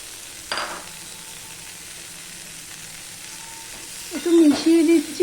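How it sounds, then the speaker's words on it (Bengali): Onion and potato pieces frying together in a pan for a fish dish, a steady sizzle with a brief clatter near the start and louder stirring and scraping toward the end. "এবার পেঁয়াজ আর আলুটার সাথে আমি একসাথে ভেজে নেবো"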